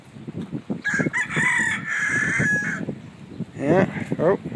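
A rooster at an antique store's farm pen gives one long, loud crow close by, with clucking hens and honking goose-like calls around it and a few muffled voices in the background.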